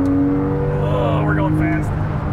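A Porsche engine revs hard up through its range, a strong sustained tone rising in pitch as the car speeds up, loud and close throughout.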